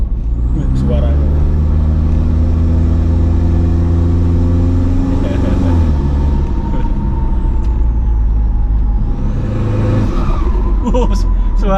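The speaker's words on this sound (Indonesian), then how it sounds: "Suara turbonya itu loh." 2014 Toyota Innova V with a 2KD turbo diesel engine tuned to drag spec: loud, steady engine roar rising and falling through revs, with a turbo whoosh and hiss, while people talk nearby.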